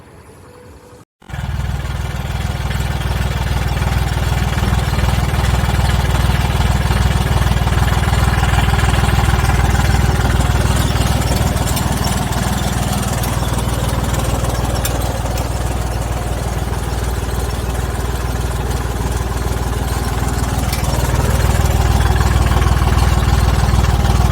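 A heavy tractor engine rumbles steadily and loudly on a river crossing in northern Vietnam, starting abruptly after a second of quiet and chugging on without letup.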